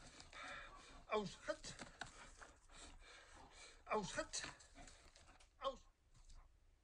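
A female dog pants and gasps in quick, short breaths during a ball-fetching exercise, with louder bursts at intervals, while a person talks over it.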